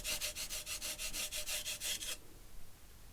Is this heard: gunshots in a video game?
no